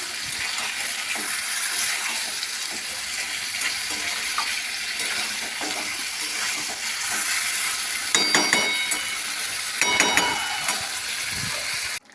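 Chicken curry sizzles steadily in a pan for the whole stretch, with a few louder scraping stirs near the end and no voices.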